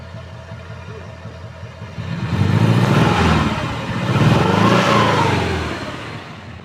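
A 2004 Suzuki Realvan DRV engine runs close by, idling, with two swells of revving that rise and fall before settling back.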